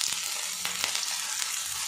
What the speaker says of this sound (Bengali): পেঁয়াজটা আমি ব্রাউন কালার করে ভেজে নেব।